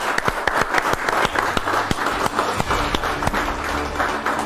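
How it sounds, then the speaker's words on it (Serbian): Applause for Goran Kazanova at a televised Yu Planet crowning show, a dense crowd clapping with sharp individual claps standing out, steady and fairly loud throughout. "Veliki aplauz za Gorana Kazanovu"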